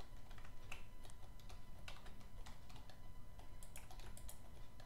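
A computer keyboard and mouse clatter during PC gaming of Black Ops 2, with rapid, uneven key taps and clicks close to the microphone over a constant low hum.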